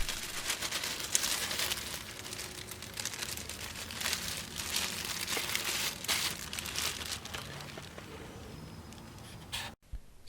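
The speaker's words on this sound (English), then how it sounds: "Place the cutting in a plastic bag." A plastic bag rustling and crinkling as a bleeding heart plant cutting is placed inside it, heard as continuous close crackling that ends in an abrupt cutoff near the end, with no speech.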